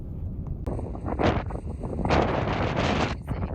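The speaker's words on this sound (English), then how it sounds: "it's really, really windy" Strong desert wind in Death Valley buffets the microphone with continuous loud, gusty roaring, surging in waves over about three and a half seconds, with no voices.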